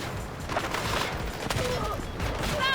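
Gunfire from Delta Force gameplay, rapid bursts of shots over a steady busy game background, with someone talking at times and faint musical tones near the end.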